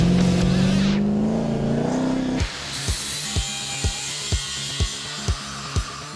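A scratch-built custom Daytona car engine revs in a rising pull, then cuts to a run of evenly spaced sharp knocks under a broad, steady roar.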